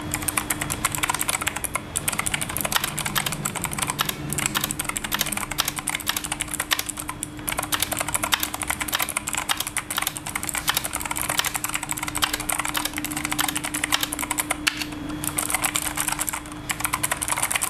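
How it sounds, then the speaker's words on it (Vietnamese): Keys clack on a GNET K89 RGB mechanical keyboard with optical blue switches in rapid, steady, close typing, a continuous stream of crisp clicky strokes with no talking. "các bạn có thể nghe thấy tiếng clicky của con này thì thực sự là nó không to bằng những cái con mà sử dụng Switch Blue thông thường"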